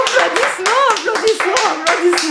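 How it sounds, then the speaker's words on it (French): Family members clap hands at home in a handful of sharp, closely spaced bursts while voices, including a child's, talk and exclaim over them. "Applaudissements"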